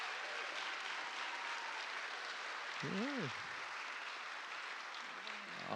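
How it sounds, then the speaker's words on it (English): Applause from a church audience for a middle school choir, a dense, even wash of clapping heard from a distance and quite faint, with a short spoken word breaking in midway. "Let's give them a big round of applause."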